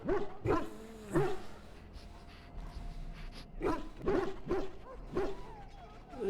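Mabari war hound from Dragon Age Origins barking in short bursts, several sharp barks spaced irregularly with a pause midway, fairly close over low game background ambience.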